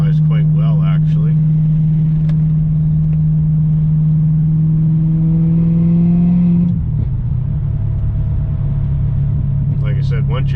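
A BMW E39 540i with a failing rear differential drives along with a loud, steady engine drone heard from inside the cabin; the pitch holds, then drops as the car shifts or eases off, with faint voices at the edges.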